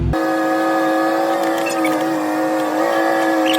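A Fendt 1042 tractor pulling an Amazone Catros disk harrow through a field, its engine holding a steady, loud droning hum close by without pause.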